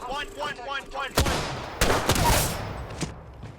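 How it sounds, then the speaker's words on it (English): Gunfire in the video game Apex Legends: sharp broadband shots and bursts crack out in the second half, near and loud, after a short stretch of voice chatter at the start. "Getting shot at."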